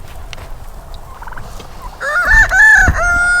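Farmyard turkeys and chickens call near a fence: a few scattered clucks, then a loud burst of rattling turkey gobbles close by.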